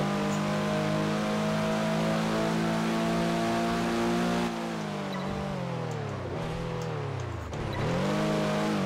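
Race cars roar through a three-lap race in Test Drive Unlimited 2, with a steady loud engine drone and rising, falling pitch as the cars accelerate, lift off and rev again toward the end.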